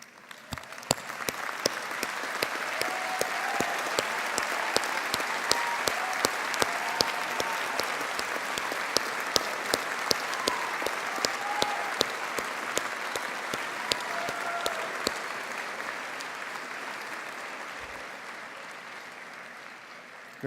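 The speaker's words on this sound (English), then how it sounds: "join me in a round of applause" A graduation ceremony audience gives a long round of applause, dense and steady at first, then gradually tapering off, with a few sharper single claps standing out close by.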